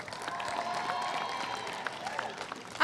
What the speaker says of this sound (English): I love the cheering section in the back.